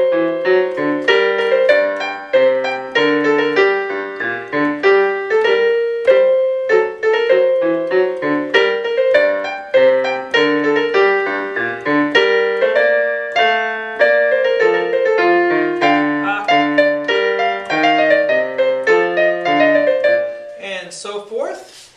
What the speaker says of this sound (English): we're looking at a Bach Polonaise today